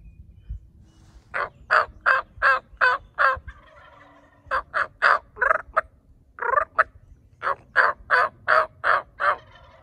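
Wild turkeys gobble in three bursts of rapid, loud rattling calls, with short pauses between, over a quiet outdoor background.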